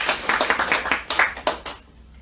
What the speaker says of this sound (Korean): 박수 한번 쳐야 됩니다.